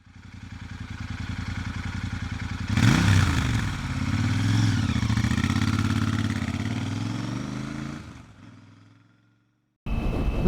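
A 2009 Kawasaki Ninja 250 motorcycle engine runs close by, a steady idle that rises into a louder rev with climbing pitch, holds, then drops off and cuts out briefly before restarting.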